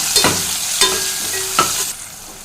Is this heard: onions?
yes